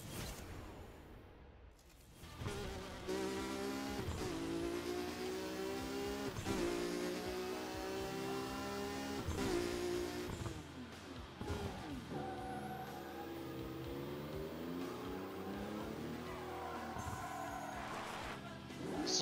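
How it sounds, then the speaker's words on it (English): A 90s Mitsubishi Eclipse revs and accelerates in a Gran Turismo race, the engine note climbing and dropping through repeated gear changes, loud and close, with brief lifts between pulls. "This is like a 90s Eclipse."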